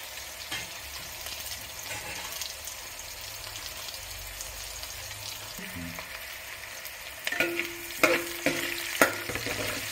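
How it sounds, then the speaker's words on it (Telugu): Onion and ginger fry in oil for a Nellore fish curry, a soft steady sizzle with occasional stirring scrapes and clinks growing busier toward the end, close and quiet with no talking. "సో ఇప్పుడైతే ఆనియన్ జింజర్ కూడా ఫ్రై అయిపోతుందండి"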